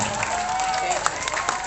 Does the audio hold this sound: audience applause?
yes